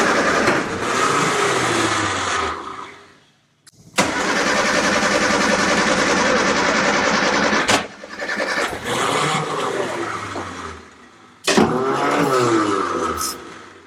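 A 1960s Austin Healey engine cranks hard in four long bursts separated by short pauses, loud and close, the starter churning without the motor catching and running.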